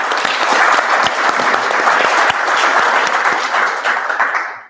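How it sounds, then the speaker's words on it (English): An audience applauds steadily at a university panel discussion on large language models, dense continuous clapping from a room full of people that holds for several seconds, then trails off abruptly. "clap again"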